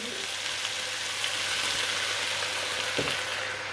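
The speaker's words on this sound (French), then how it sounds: "On va déglacer, bien sûr, au vin blanc" Vegetables and lardons for a jardinière sizzle loudly and steadily in a hot pan after being deglazed with white wine, a dense constant hiss with a couple of faint knocks.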